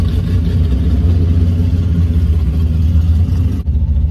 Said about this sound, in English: cars are running